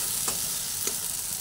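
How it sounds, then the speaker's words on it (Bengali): Jackfruit masala frying in oil in a pan, stirred over a lowered flame: a constant loud sizzle with two distinct scraping strokes of the spatula, close up and with no talk. "ভালোভাবে আবার নাড়াচাড়া করে নিচ্ছি।"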